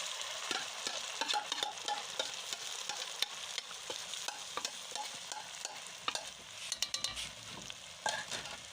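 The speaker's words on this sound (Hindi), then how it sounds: "अच्छी तरह से भूनेंगे सूजी को" Semolina roasting in a pan for village-style suji halwa, stirred into browned sugar: a steady soft sizzle with frequent scraping strokes of the spoon, close and alone with no talking.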